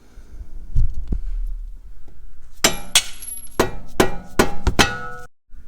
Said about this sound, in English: You just saw me hit this guy out with a rubber mallet.